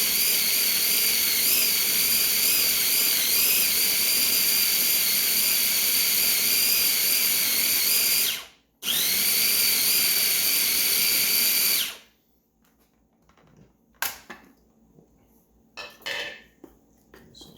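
A food processor grinds a chickpea burger mixture into a smooth paste, whining loudly and steadily with one brief stop, then cutting off to leave quiet clatter and light knocks.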